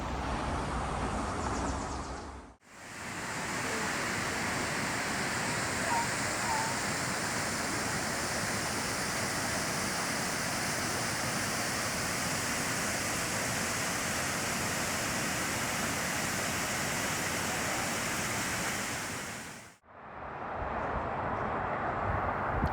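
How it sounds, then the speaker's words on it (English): Bridalveil Falls in Oregon's Columbia River Gorge roars as a dense, steady rush of falling water heard at the viewing point after a short hike, continuous and full for most of the stretch, with brief quieter gaps near the start and end. "our first stop was Bridalveil Falls, where we took a short hike to the waterfall viewing point"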